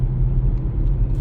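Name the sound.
2019 Chevy Equinox engine running while driving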